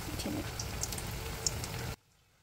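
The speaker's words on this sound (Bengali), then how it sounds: "এখন আমরা দুপুরে খাওয়ার জন্য কয়েকটা কাবাব সুন্দর করে বেশি করে ভেজে নিব, করে গোল্ডেন করে ভেজে নিচ্ছি।" Fish kebabs frying in hot oil, a steady close bubbling sizzle with small pops that stops abruptly near the end.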